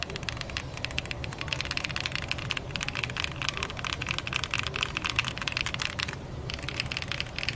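Rapid typing on a mechanical keyboard with Cherry MX Blue switches, crisp clicky keystrokes in dense bursts with brief pauses, close and fairly quiet.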